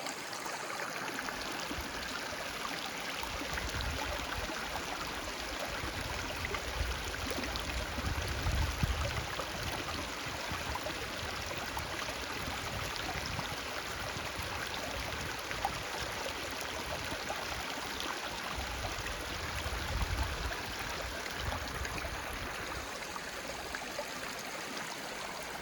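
A small stream of water flowing through a little draw on the Sarah Cascade Trail, a steady soft rush and trickle heard close and unbroken throughout.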